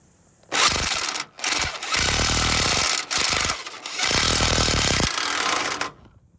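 Power drill driving a self-tapping bolt into a steel truck-bed trailer frame, loud and close, in several long grinding bursts with short pauses between them, no talking.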